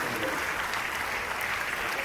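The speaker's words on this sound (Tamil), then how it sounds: "அனைவரும் கரவுரை எழுப்பி ஆரவாரம் செய்யுமாறு" An audience at the opening ceremony of a new hostel building claps in steady, dense applause that fills the whole stretch without a break.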